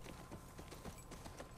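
Horse hooves clip-clopping in The Last of Us Part II video game, a steady walking rhythm of close, moderately loud hoofbeats over a low ambient game background, with no talking.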